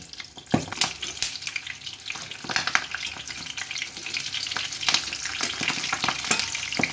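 Eggplant paturi wrapped in leaves fries in a pan over a lowered flame, giving a steady close sizzle and crackle with intermittent sharper pops and spatters throughout.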